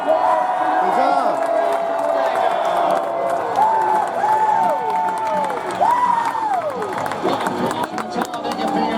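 Race crowd at Talladega during the YellaWood 500 weekend, loud continuous cheering and whooping with sliding yells rising and falling over scattered clapping, people shouting close by.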